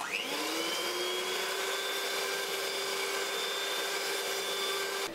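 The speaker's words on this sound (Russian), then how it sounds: "мы начинаем взбивать" An electric mixer whips cream with a little vanillin for a cheesecake, spinning up quickly and then holding a steady, continuous whirring hum. No one speaks.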